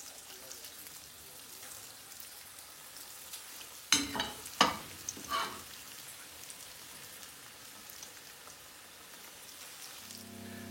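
Crumbly, loose fritter mixture goes into hot oil, setting off a few sharp bursts of sizzling spatter that flare and fade, then a quiet steady fry under a low background hum.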